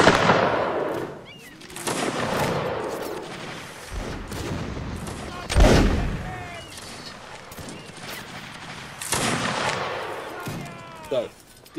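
Howitzer artillery fire from a siege video game with an artillery mod, with heavy booms and rolling gunfire bursts, loud and repeated across the clip, mixed with voices talking over it.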